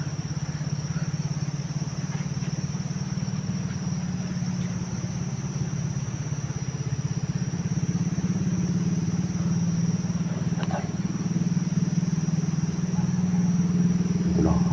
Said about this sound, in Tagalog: May mga motor na madaan.